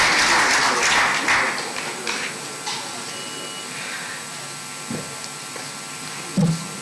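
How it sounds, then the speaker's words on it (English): Applause at a formal inauguration ceremony for a national research committee, a broad wash of clapping that is loudest at the start and then thins out and fades to a lower, scattered level. "Let's have a big round of applause for our Chairman."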